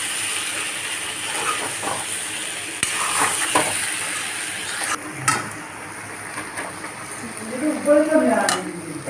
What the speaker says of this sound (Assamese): এইখিনি এতিয়া চিমত দি মই ভাজি থাকিম 15-20 মিনিটমান